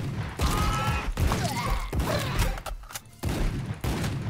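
Rapid bursts of gunfire aimed at a bull in the video game AK-xolotl, several shots in quick succession with thuds and crashes, fairly quiet and without talk.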